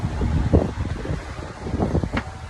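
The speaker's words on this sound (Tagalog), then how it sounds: "mahangin naman eh" Steady rushing wind on a terrace buffets the microphone, a low roaring rumble with gusty swells and no voices.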